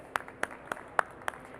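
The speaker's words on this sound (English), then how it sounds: "Please, I invite you to do an applause and welcome to the stage to" Light applause at a Devconnect conference stage in Argentina, heard as a few sparse, evenly spaced claps, faint and distant, with no talking.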